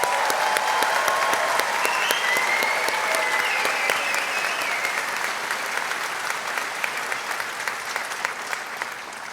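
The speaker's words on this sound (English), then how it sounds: "let's give them a huge round of applause" A large UCLA Humanities commencement audience applauds the graduates with sustained, loud, dense clapping throughout. Faint cheers rise early on, and the applause eases only slightly toward the end.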